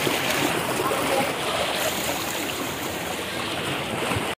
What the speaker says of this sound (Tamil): ஸோ இதாங்க வேவ் பூலு. கடல் அலை மாதிரி வந்து செட் பண்ணி வச்சுருப்பாங்க